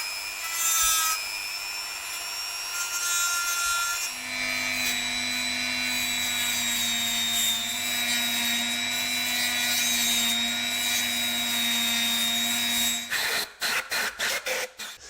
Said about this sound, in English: I'm gonna try to clean the outer portions using a 10mm flap wheel.